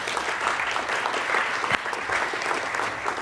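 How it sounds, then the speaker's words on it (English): Warm applause from an audience fills the room, a steady, full wash of clapping hands that holds at an even level throughout. "Please give her a round of applause."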